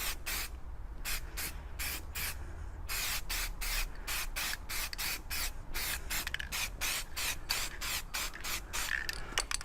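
Spray paint laid on in a heavier second coat over a car scuff, heard as a rapid run of short, evenly spaced aerosol bursts with hissing between them, close and steady throughout.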